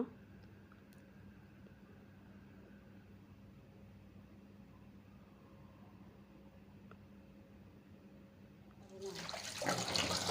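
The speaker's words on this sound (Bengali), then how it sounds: "এখন আমি একটু ভালো মতো ধুয়ে নিচ্ছি" Cut pieces of local duck meat rinsed with lukewarm tap water: a quiet kitchen hum for most of the stretch, then running water bursts in near the end, gushing loudly and close.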